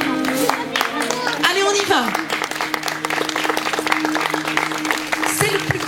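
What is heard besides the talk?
wedding guests applauding the couple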